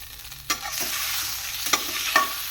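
Egg curry masala being sautéed with curry leaves: a bright, continuous sizzle runs throughout, broken by a few quick spatula scrapes.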